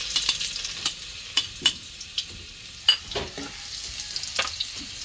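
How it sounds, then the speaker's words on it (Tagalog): Garlic sizzling in hot oil in a home kitchen pan, a soft steady fry broken by several sharp scraping stirs and clinks of a utensil, close and fairly quiet. "So ilalagay na natin yung ating bawang"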